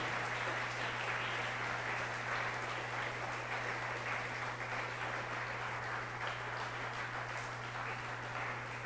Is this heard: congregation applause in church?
yes